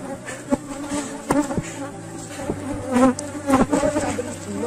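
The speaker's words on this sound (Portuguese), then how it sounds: "o enxame está bastante agressivo, é normal" An aggressive honeybee swarm buzzes densely and steadily around an opened hive, with individual bees whining close past in rising and falling passes.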